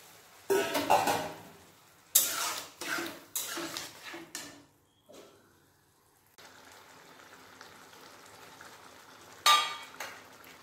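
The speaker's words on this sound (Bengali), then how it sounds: "এর মধ্যে সিদ্ধ করে রাখা ডাল ঢেলে দেব।" Boiled masoor lentils poured into cooked bottle gourd in a pot while making a vegetarian lentil dish, giving bursts of splashing and clattering with a steady low sizzle in between, close by and with no talking.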